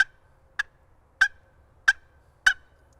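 A hand-held turkey call imitates a wild turkey, giving five short, sharp, evenly spaced clucks and yelps, clear and close against near silence.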